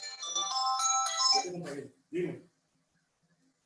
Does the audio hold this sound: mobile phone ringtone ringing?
yes